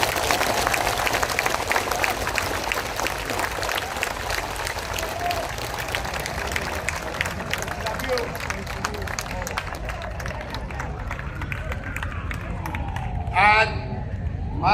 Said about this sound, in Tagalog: pwede bang yung pinakamalakas nyong palakpak para sa kanila?